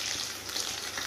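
Thin slices of potato deep-frying as chips, a dense, even bubbling sizzle close by that lasts the whole moment.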